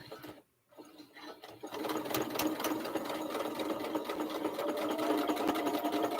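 Sewing machine stitching a quilt block, starting after a brief silence and then running as a steady, close, rhythmic mechanical whirring and clatter.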